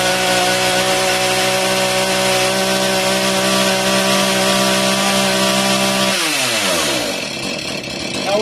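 A chainsaw revs at full throttle with a loud, steady, close-up roar, then its pitch drops as the engine winds down near the end.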